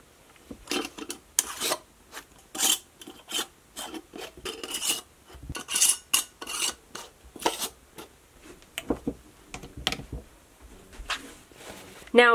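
Canning jars being wiped clean of brown sugar, a series of short rasping rubs in irregular bursts, close and fairly loud, with brief pauses between strokes.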